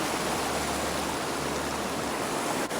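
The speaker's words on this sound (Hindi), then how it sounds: "2-3 दिन से बारिश हुई थी तो ये देखे पानी।" A mountain stream in Malakand, Swat, swollen after two or three days of rain, rushes in a steady, loud, broadband roar that fills the whole stretch without a break.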